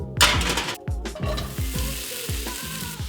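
Chicken breast and mushrooms sautéing in a hot pan, a steady close sizzle broken by repeated scraping stirs of a utensil against the pan, with no talking.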